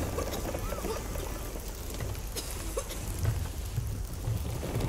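Stormy rain at sea in Sea of Thieves, a steady wash of falling rain with low rumbling, faint and continuous, with a voice speaking softly underneath.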